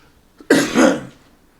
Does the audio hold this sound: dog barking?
no